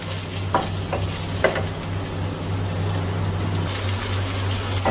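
Potatoes fry with onion in a pan, giving a steady close sizzle under a constant low hum, with a few soft stirring scrapes.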